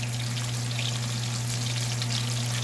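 Chicken cutlets fry in a pan with a steady, dense sizzle and crackle, close and continuous, over a constant low hum, no voices.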